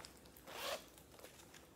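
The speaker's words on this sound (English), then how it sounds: "You have a zipper in the front with a little pocket inside there." Zipper on a purse pulled open in one quick, close, soft rasp, alone with no talk.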